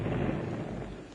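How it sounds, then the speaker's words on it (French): A single cannon shot fired from a fort booms as a dense, rumbling blast that fills the short moment, loud and close, with no voices. "C'est de là que partira le coup de canon."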